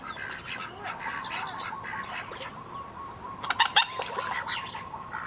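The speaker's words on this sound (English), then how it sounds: "Here come the ducks." Ducks quack and honk in a noisy cluster nearby, a busy chorus that peaks in a louder burst of calls near the end.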